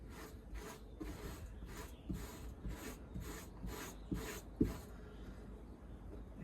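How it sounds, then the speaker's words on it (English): A wire brush lightly scrapes a coyote hide during tanning, giving quiet, rhythmic rasping strokes about twice a second, with a few sharper knocks near the end. The sound is faint and close, with no talking. "I'm gonna take this wire brush and just kind of lightly scrape at the hide"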